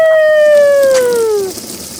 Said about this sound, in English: The spigot. It works.